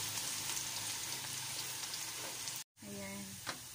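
Chopped garlic fries in hot oil toward golden brown while cooking bagoong alamang, a continuous loud sizzle with a short silent break near the end, followed by a faint tonal sound.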